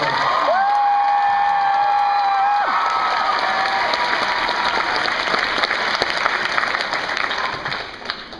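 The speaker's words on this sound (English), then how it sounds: "Give them a big round of applause" An audience at a book launch party for Beyonders: A World Without Heroes bursts into loud, sustained applause and cheering, a dense wash of clapping with a whistle-like tone near the start, holding steady for several seconds before tapering off.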